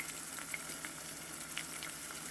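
Pink beans sizzle steadily in a hot pan, a soft continuous frying hiss with small crackling pops, close and fairly quiet with no talk.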